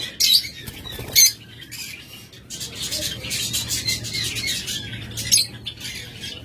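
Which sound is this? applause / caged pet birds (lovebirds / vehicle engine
caged pet birds (lovebirds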